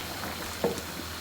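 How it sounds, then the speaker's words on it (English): Water boiling in a pot for pasta, a faint, steady bubbling hiss with a few soft pops, low and continuous throughout. "Water is boiling."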